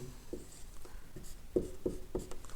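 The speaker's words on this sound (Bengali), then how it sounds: "তো এটা আমরা একটু এভাবে লিখি" Pen or marker strokes on a board or paper while chemistry is explained, a few short scratchy writing bursts with small gaps, close and fairly quiet, no talking.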